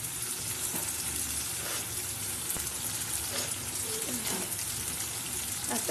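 Onions and mashed banana sizzle and fry in a pan, a steady crackling hiss with occasional stirring scrapes, continuous and moderately close, with no talk over it.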